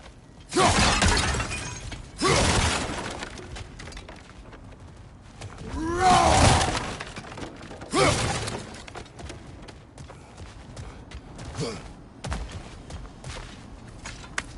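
Objects smash and shatter in the God of War Ragnarok video game, a series of loud breaking crashes in separate bursts spaced a few seconds apart, with quieter rattling debris and movement between them.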